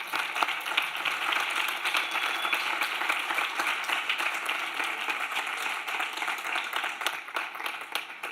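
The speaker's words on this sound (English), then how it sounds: "I would like an applause to all of the teams" Steady crowd applause for competing teams at a pediatric innovation event in Barcelona, dense and continuous clapping from many hands throughout, fairly close and even in loudness.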